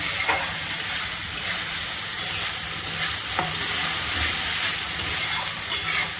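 Ground spice paste of fennel, cumin, coriander and ginger fries in a little oil for a fish curry, a bright hissing sizzle with close, rhythmic stirring scrapes.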